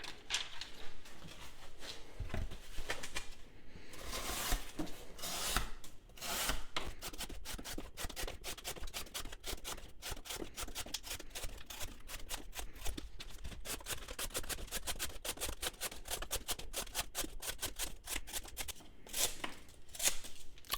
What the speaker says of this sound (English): we're gonna do some cardboard cutting